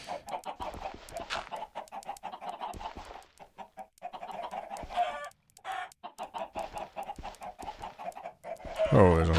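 A crowd of Minecraft chickens clucks in quick, repeated bursts, the clipped digital clucks piling over one another at moderate volume with brief gaps between them.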